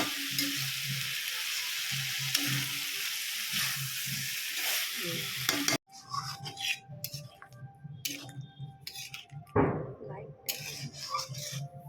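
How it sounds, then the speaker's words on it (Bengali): Jackfruit curry with potatoes, green chili paste and a splash of water is sautéed and stirred in a pan, with a soft sizzle and intermittent scraping strokes as someone talks over it. "অল্প জল দিয়ে ভালো করে কষিয়ে নিচ্ছি, তেল না ছাড়া অবধি"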